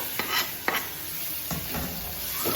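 Tomatoes stirred and fried in a pan with butter and capsicum, a steady bright sizzle under repeated scraping stir strokes, close and fairly loud with no talking.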